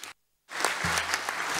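Applause from a conference audience starts after a brief silence, swelling into a steady, fairly loud wash of many hands clapping with a low hum running underneath.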